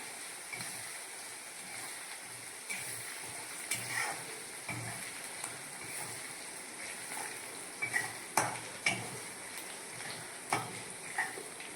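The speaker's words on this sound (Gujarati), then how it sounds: "આદુ મરચાં લસણની પેસ્ટ નાખી કરી નાખો મિક્સ બધું" Ginger, chili and garlic paste frying and being stirred in a pan for a tempered millet flatbread dish, a soft steady sizzle with scattered clinks and scraping knocks of a spoon, fairly quiet and with no talk.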